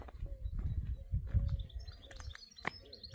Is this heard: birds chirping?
yes